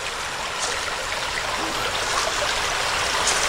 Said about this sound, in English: Just want to stop and show you this beautiful stream.